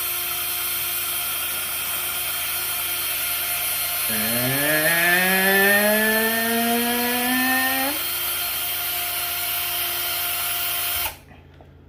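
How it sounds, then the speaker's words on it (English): Power drill boring a hole into paper mache clay, its motor whining upward in pitch as it spins up over a few seconds, then holding steady before cutting off abruptly, loud and close. "Hope this drills a hole."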